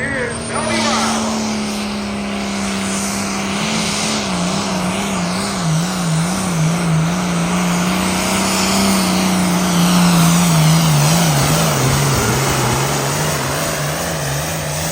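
Light Limited Super Stock tractor roaring down a pull track at a tractor pull, a loud sustained engine drone with a wavering pitch over the full run, as an announcer talks over it.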